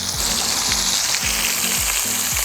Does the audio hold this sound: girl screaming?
no